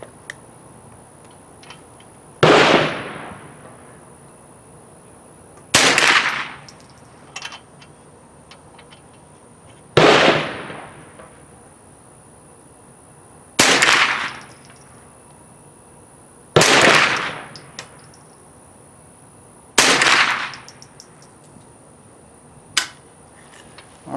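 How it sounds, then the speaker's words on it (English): Six sharp rifle shots fired at a range through a CVLife 2.5-10x40e scope crack out one at a time, loud and fairly close. Each shot has a fading tail, and there are pauses of about three to four seconds between them. "Alright, that's 10 rounds into that little bugger."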